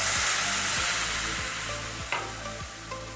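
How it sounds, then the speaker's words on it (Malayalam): Half a cup of milk goes into a fried tomato-and-spice mixture in a pan, giving a loud, steady sizzle with a sharp scrape or clink partway through, close up, with no talking. "ഞാൻ ഇതിലേക്ക് 1/2 കപ്പ് പാൽ ഒഴിച്ചു കൊടുക്കുകയാണ്"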